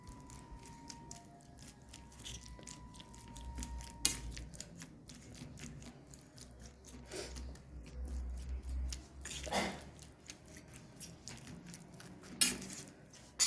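Roasted brinjal being mashed by hand in a pan for bharit, with soft irregular squishes and occasional sharp clicks against the pan, faint and close.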